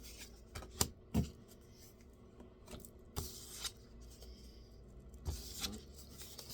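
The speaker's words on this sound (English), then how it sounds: "I'm using my angel cards that are very difficult to shuffle for some reason." Quiet riffling and soft snapping of a deck of angel cards being shuffled, in a few short bursts separated by pauses, close by with no talking.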